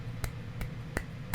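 Four crisp finger snaps, evenly spaced about a third of a second apart, stand out close and alone over a low steady hum, standing in for one hand clapping in The Simpsons.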